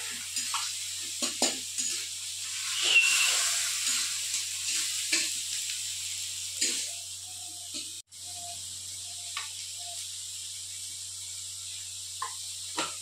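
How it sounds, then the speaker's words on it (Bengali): Garlic-ginger paste frying golden with onions in a pan: a soft, steady sizzle with scattered scrapes and clicks of stirring, close and fairly quiet, with no talk. "এবার দুবো গার্লিক এন্ড জিঞ্জার পেস্ট, এবার গোল্ডেন ফ্রাই করে একদম ভেজে"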